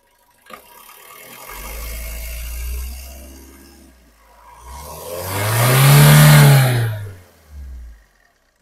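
Maruti Swift VDI diesel hatchback from 2014/15 revving its engine, an idle that rises into a loud surge, holds, then falls back with a short second blip near the end.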